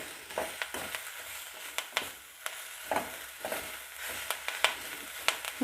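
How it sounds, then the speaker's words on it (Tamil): Curry leaves sauté in a pan for a thuvaiyal, sharp spatula taps and scrapes repeating every half second or so over a quiet, low sizzle, close and without speech. "இப்போ பாருங்கள் நல்லா வதங்கிடுச்சு கருவேப்பிலை"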